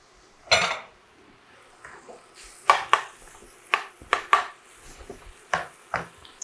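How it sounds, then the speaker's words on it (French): Chopped onion tipped into a pan, followed by a series of sharp, close knocks and scrapes from a utensil stirring it against the pan in irregular bursts, with no talk. "On ajoute l'oignon coupé."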